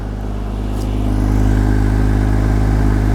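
A Porsche Boxster engine idles smoothly and steadily up close, a loud, even mechanical hum with a low rhythmic pulse that rises slightly after the first second and holds without stumbling.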